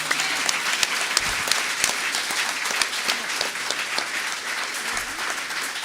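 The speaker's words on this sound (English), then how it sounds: "I want you all to give them a round of applause," An audience at an emancipation anniversary panel discussion claps for the panelists, steady sustained applause filling the room with scattered louder claps throughout.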